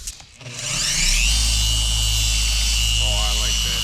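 A Flex XFE dual-action polisher with a polishing pad spins up on a car and holds a loud, steady motor whir with a high whine, and a voice briefly speaks over it near the end.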